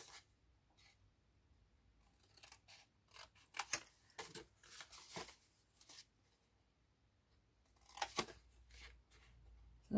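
Cutting away score lines in card while making a votive box, with faint, close, irregular snips and papery scrapes in small clusters separated by quiet pauses.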